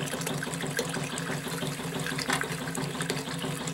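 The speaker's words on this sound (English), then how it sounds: "let's see if we can wash some of that off of there" Water running and splashing steadily over a tilted shaker table as material is washed off its surface, a continuous close gushing wash with no speech.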